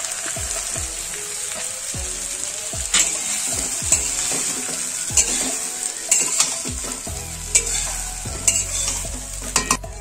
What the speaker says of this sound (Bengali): ঘিটা গলে গেছে, এবার আমি চিড়েটা দিয়ে হালকা একটু নাড়াচাড়া করে নেব।